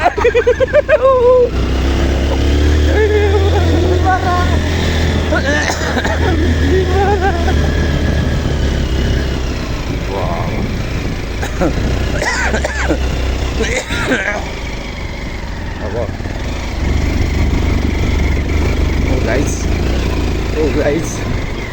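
Many motorcycle engines rumble and idle together on a road, a continuous loud low drone with people talking excitedly over it.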